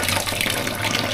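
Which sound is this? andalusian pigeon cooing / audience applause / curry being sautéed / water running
water running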